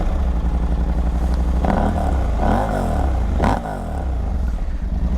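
A Husqvarna Norden 901 motorcycle engine runs close and loud, a steady idle rumble broken by two sharp throttle blips that rise and fall in pitch.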